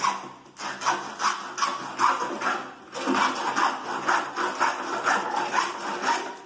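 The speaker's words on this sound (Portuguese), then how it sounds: "Vou estar usando a serrinha, tá?" A small hand saw cutting through styrofoam ceiling moulding, producing a steady rhythmic rasping stroke after stroke, close up and continuous with one brief pause.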